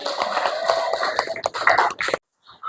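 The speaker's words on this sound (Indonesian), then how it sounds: "Ya, tepuk tangan buat Intan." A classroom of students claps in a burst of dense applause lasting about two seconds, then stops abruptly, leaving a short quiet gap.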